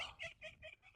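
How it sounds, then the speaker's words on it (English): Small homestead hens cluck in a quick run of about five short, nasal clucks, close but fairly quiet, with no other sounds around them. "the little hens here, they're quite noisy"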